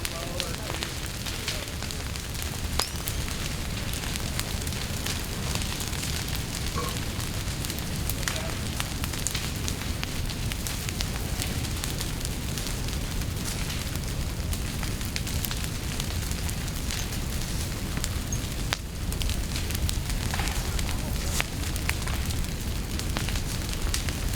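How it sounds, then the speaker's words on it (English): Vegetation burning during a prescribed burn, a steady roaring crackle with scattered sharp pops throughout, loud and close, with no talk. "the fire will build up quite a bit of intensity"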